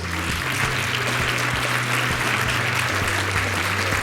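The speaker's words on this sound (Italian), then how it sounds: "La presentiamo e la accogliamo con un grosso applauso, Fanny Patricia Santana Mercedes." Audience applause at a fashion show at an Alto Vicentino crafts fair, a dense, continuous wash of clapping from a large crowd that holds steady and loud throughout, with no one talking over it.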